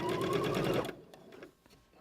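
A sewing machine runs loud and steady, stitching and back stitching fabric, then stops abruptly partway through, leaving only faint handling noises.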